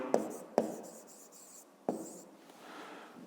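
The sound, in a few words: writing out a math expression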